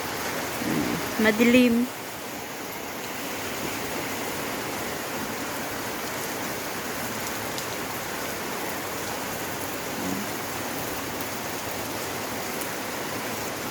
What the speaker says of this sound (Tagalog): Maulan sa kapaligiran.